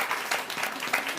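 Brief burst of audience applause at a live author talk in a bookstore, dense clapping from a small crowd heard close.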